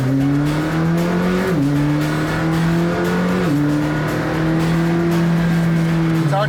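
A McLaren Sabre engine drones loud and steady from inside the car, holding a constant high tone that dips briefly twice as gears change, a dense and unbroken roar throughout.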